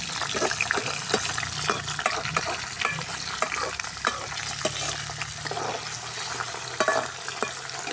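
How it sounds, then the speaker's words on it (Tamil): Peanuts fry in oil while being stirred, a steady sizzle broken by frequent sharp scraping and rattling clicks from the spoon and pan, close and without speech. "கடலை எல்லாம் போட்டு வறுத்துக்கிட்டு"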